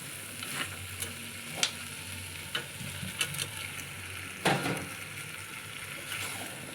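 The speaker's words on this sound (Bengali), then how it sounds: "আলুটা দিয়ে আর একটু নেড়ে নেবো" Goat head and offcut meat with potatoes stirred in a pan with a metal spatula, giving a steady low sizzle broken by several distinct scraping strokes, one louder near the end, with no talking.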